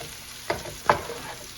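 Garlic cooking in a hot pan gives a faint, soft sizzle, broken by two brief stirring scrapes, heard close up and quiet.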